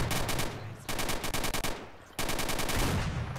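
Rapid automatic gunfire from the video game S.T.A.L.K.E.R. Shadow of Chernobyl at Agroprom, loud close bursts in three long runs with brief gaps between them, no voices.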